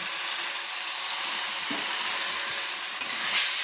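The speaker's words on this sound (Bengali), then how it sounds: "দিয়ে ভালো করে নেড়ে নিলাম" Red chilli powder and turmeric sizzle as they are stirred and fried in a pan for chicken darbari, a steady bright hiss with faint scraping movements and no voices.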